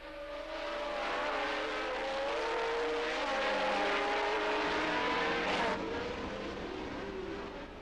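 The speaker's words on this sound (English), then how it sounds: "as the cars catapulted towards the Tarzan corner, Andretti and Peterson did nothing to change" A pack of 1978 Formula 1 cars roars off the line at the race start, heading toward the Tarzan corner. Several high-revving engines wail together and rise in pitch as they accelerate, loud and continuous, with one car sweeping close past near the end.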